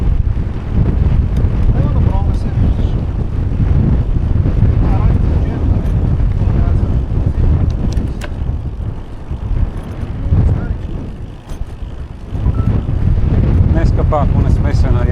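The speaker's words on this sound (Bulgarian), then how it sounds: "Особено с този страничен вятър." Strong crosswind buffets the microphone while cycling on a long Danube ultra bike ride, a loud, steady low roar with gusty swells through the whole stretch, and voices talk over it now and then.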